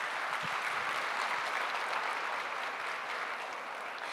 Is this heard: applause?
yes